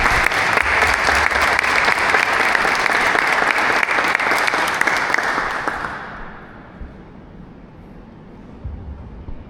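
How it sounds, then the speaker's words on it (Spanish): Loud, sustained applause fills a former chapel at a community talk, honoring a chirimía teacher, then fades out near the end and leaves a quiet room. "un aplauso para Don Moy por habernos enseñado"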